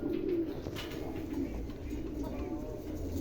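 A pair of Andalusian pigeons coo softly and repeatedly, low throaty calls close by over a faint background hum.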